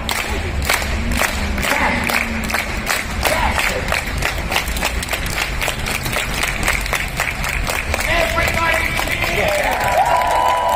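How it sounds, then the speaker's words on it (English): A street crowd watching an acrobat in Edinburgh, Scotland claps in a steady rhythm with scattered cheers and shouts, a continuous loud wash of hands and voices, while a performer talks over it. "Everybody clap with me."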